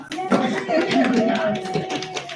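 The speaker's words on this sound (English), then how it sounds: "Nice little round of applause." An audience at a meeting gives a brief round of applause, steady clapping mixed with people talking over it throughout the short burst.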